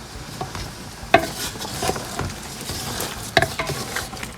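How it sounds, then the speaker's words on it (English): Seafood boil being stirred in a pot, with soft scraping and liquid sloshing under a steady simmer, plus two sharper clanks of the utensil against the pot. "I'll go ahead and stir this a little bit."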